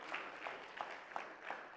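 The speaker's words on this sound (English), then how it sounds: "Another round of applause." Faint, distant round of applause at a school reading competition prize-giving, soft scattered clapping from a modest crowd with a few sharper claps standing out.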